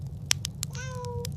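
A mother cat gives a short, clear meow up close, following a few sharp clicks and taps, with no talk over it.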